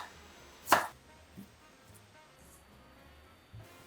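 A knife chops carrot, cabbage and onion on a cutting board for Korean street food, with one sharp, close strike followed by a couple of faint taps in an otherwise quiet kitchen.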